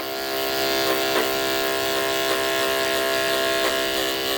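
Electric hair clippers buzz steadily through a barber haircut, a continuous close, loud hum with a few brief shifts in pitch as the blade moves through hair.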